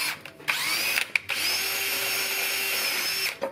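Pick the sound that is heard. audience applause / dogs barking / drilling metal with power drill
drilling metal with power drill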